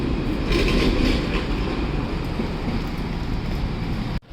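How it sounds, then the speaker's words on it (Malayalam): A tram runs along its rails in Bordeaux, France, with a continuous rumbling roll and faint clatter, fading a little before cutting off abruptly at the end. "നടുക്കൂടിയാണ് ട്രാം റെയിൽ മൂവ് ചെയ്യുന്നത്"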